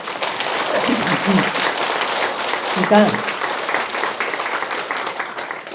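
An audience at a talk applauds in sustained, fairly loud clapping that fills the hall, while the lecturer's voice cuts in briefly over it.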